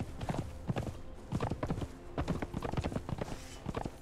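Horse hooves clip-clopping in the video game Conan Exiles, a close, steady trotting rhythm of sharp knocking hoofbeats in repeated clusters across the whole clip.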